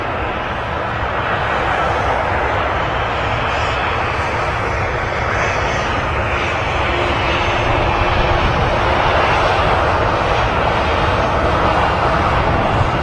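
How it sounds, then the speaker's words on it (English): A passenger jet, an 11-year-old EasyJet Airbus A320 on arrival at Manchester Airport, roars steadily and loudly throughout as it passes close by, a broad continuous engine rumble with no voices. "an EasyJet A320 arriving from Alicante."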